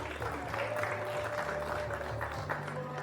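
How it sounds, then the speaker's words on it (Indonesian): Audience applause for a speaker at a peacebuilding discussion event, a steady, moderately faint wash of clapping lasting a few seconds. "Boleh tepuk tangan buat Pak Ihsan"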